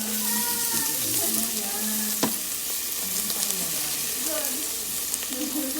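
Rice being mixed in a hot pan with mushrooms, a steady sizzle and frying hiss running throughout with scraping stirs and one sharp clack of a utensil, close and moderately loud.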